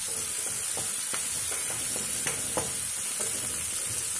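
Onions and curry leaves frying in oil, a dense steady sizzle and hiss with a few light stirring taps, close and fairly loud.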